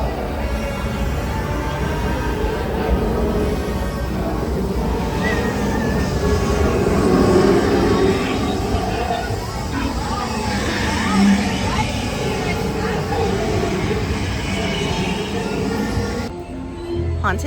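Disneyland Railroad train ride on a grand circle tour of the park, a steady rumbling, rolling drone with faint clatter that continues unbroken, heard from on board with a muffled voice mixed in.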